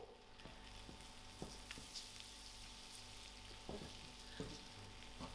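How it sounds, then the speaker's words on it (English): A generous knob of butter melting in a hot pan, a quiet continuous frying sizzle with occasional soft pops and light taps, heard close and alone without speech. "So while this butter melts"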